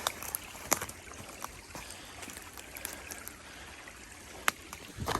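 A small seasonal creek flowing along a hillside garden, a soft continuous watery wash with scattered faint splashes and trickles, fairly quiet and without voices.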